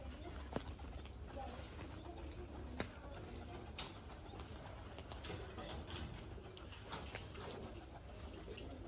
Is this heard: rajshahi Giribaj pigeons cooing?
yes